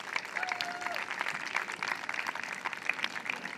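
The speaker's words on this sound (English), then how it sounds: "Round of applause." An audience at a community talent show in St. Louis Park gives steady applause, dense clapping from a crowd that carries on through the whole moment at moderate volume.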